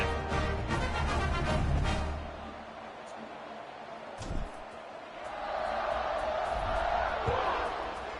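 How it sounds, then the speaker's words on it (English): A stadium crowd in a college football video game, Georgia Tech versus Tulane, roars with loud cheering that fades. A few thuds follow, then the crowd noise swells again, broad and distant, with announcer talk woven through. "this crowd is feeling themselves after that last drive"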